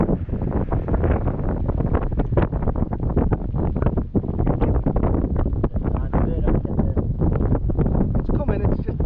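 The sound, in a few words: strong wind on coast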